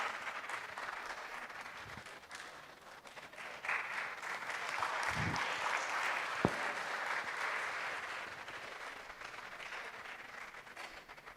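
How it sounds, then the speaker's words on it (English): An audience at a medical college dedication ceremony gives a standing ovation, with faint, sustained clapping heard from a distance that swells slightly midway, with a few brief louder knocks. "I request everyone to join me in a big round of applause."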